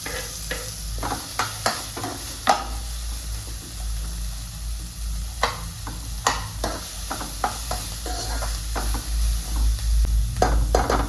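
Onions frying in hot oil after fenugreek, with a steady sizzle under repeated scraping stirs of a spoon in the pan, close and fairly loud, a few stirs coming in quick bursts.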